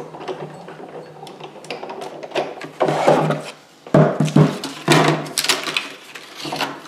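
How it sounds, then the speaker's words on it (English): A manual die cut machine cutting paper, with uneven rubbing and grinding passes, a few sharp clunks and pauses between pushes, close and fairly loud with no talk. "Follow the instructions for your manual die cut machine"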